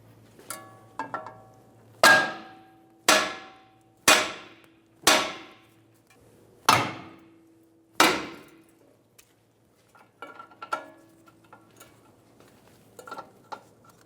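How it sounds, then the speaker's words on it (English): Hammer blows ring out against the steering knuckle cup while freeing the lower ball joint on a 2007-2011 Toyota Camry, seven loud, close metallic strikes at roughly one-second intervals, followed by quieter clinks and tool handling. "If you're using a hammer, we're going to hit on the side of this cup, and that should break the tension free on the ball joint"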